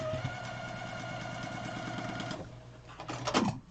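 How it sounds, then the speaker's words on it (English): A sewing machine runs a steady motorized stitching buzz while quilting a fabric square, then slows and stops, followed by a few brief handling clicks. "now we are at our last bit of quilting on this square"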